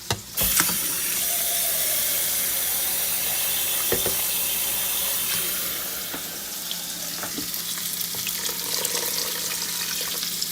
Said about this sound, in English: and then I will add some water